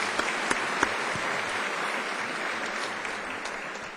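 An audience gives a steady, dense round of applause that lasts the whole stretch, with a few sharper individual claps standing out near the start.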